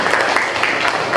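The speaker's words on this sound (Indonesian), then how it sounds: "tepuk tangan" A classroom of students claps together after a group presentation, a brief, dense, close burst of applause.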